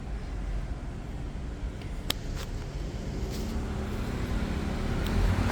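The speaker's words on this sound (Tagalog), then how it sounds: "Guys, the bus is coming." A green city bus in Taipei pulls up to a stop, its low engine rumble and road noise steady and close, growing slightly louder toward the end with a couple of brief clicks.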